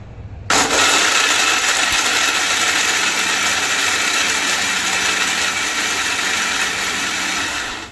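A kitchen mixer grinder grinds dried coconut to a fine texture, switching on abruptly after a brief quiet start and then whirring loud and steady with a dense, rattling motor hum that runs to the end.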